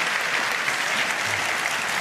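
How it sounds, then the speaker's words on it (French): An audience at a rugby awards night applauds the Aviron Bayonnais team, promoted as Pro D2 champions, with a steady, dense ovation of many hands throughout. "On peut applaudir l'Aviron Bayonnais, évidemment."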